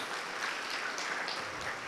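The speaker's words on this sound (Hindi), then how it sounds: "ताली बजाओ इसके लिए।" Government-school students in Rajsamand clapping for a classmate named Devraj, a brief, even wash of applause from a group, fairly soft and without speech.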